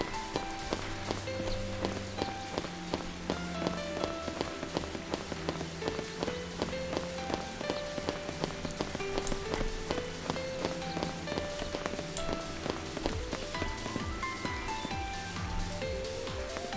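Steady rain patters on surfaces in a Final Fantasy XIII game scene, a dense continuous hiss of drops beneath layered melodic game music, without talk.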